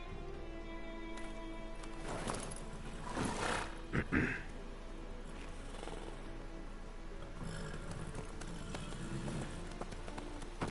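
Quick rhythmic hoofbeats pound along steadily, a galloping horse in the video game The Witcher 3: Wild Hunt heard up close with some rustling and thumps mixed in.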